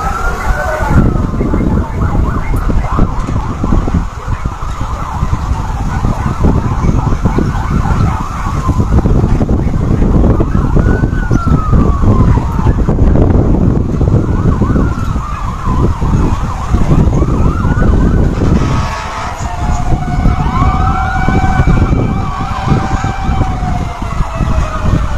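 Fire truck sirens wail continuously at a house fire in Parañaque City, rising and falling tones sweeping over loud traffic and engine rumble, staying close and prominent for the whole stretch.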